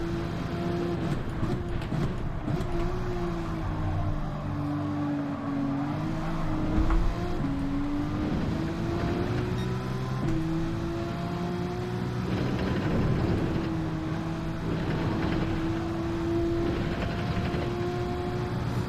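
A Ferrari race car engine in Gran Turismo 7 holds a steady, droning whine throughout, its pitch sliding up and down with shifts and corners, with other cars faint in the background and no talk.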